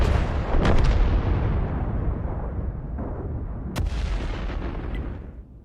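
A tank cannon fires in World of Tanks, a booming report that rolls into a long, fading rumble, with a sharp crack partway through, loud and close without talk.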